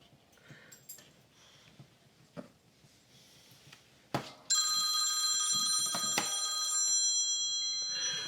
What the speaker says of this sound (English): The phone call came.